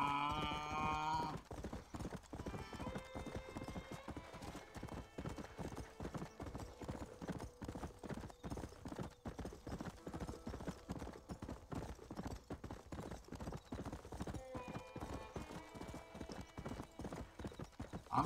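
Continuous galloping hoofbeats from a horse ridden in Red Dead Redemption, a fast even clip-clop held for the whole stretch alongside faint tonal game sounds at start and near the end.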